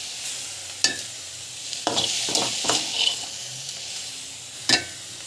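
Dhaba-style tomato chutney sizzles steadily in a hot pan, broken by a few sharp scrapes and clatters of a spoon stirring, close up with no talking.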